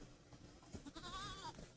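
A pygmy goat, a little female, bleats once at a goat refuge in Florida, a short wavering cry rising over faint rustling and outdoor background noise.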